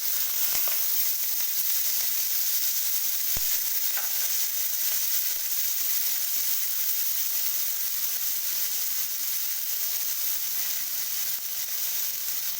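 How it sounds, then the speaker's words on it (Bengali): Chopped onion sizzles in hot oil with cumin and fennel seeds for an okra and potato curry, a steady, close, even hiss that runs unbroken throughout, with a couple of brief clicks early on. "কেটে রাখা পেঁয়াজটা দিয়ে দেবো"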